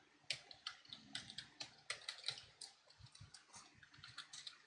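Quick, irregular clicking of fingers typing on a computer keyboard, with bursts of keystrokes and short pauses between them. The tapping sounds close and fairly quiet, and no one speaks.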